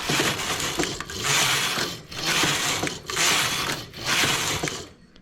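A domestic knitting machine's carriage is pushed back and forth across the needle bed, making loud, close rasping, clattering swishes in about five even passes with short pauses at each turn.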